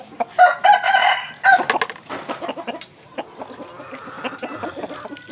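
A rooster crows and clucks up close during a chicken training session, loud calls in several bursts at the start, then a run of quieter clucks and fowl sounds.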